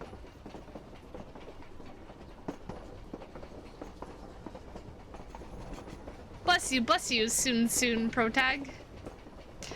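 A steady rumbling train rolls along in the background while a voice speaks up loudly near the end.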